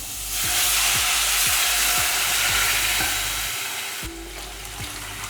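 Warm water poured into a cooking pot holding onion and tomato makes a continuous rushing splash with soft repeated knocks, then thins out toward the end. Nobody speaks.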